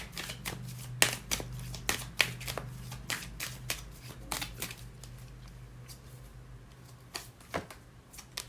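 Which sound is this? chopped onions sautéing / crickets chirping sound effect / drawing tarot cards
drawing tarot cards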